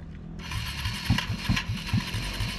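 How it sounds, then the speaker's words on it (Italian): Motorcycle at a rally failing to start: engine noise with repeated rhythmic cranking bursts that never catch, steady and fairly close, with no talking. "La moto non gli parte,"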